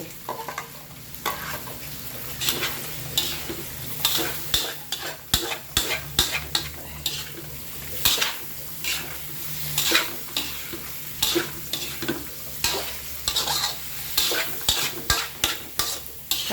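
Mushrooms and long beans stir-fry in a pan, with a loud steady sizzle and a rapid, uneven run of spatula scrapes and metallic clinks against the pan, heard up close with no speech.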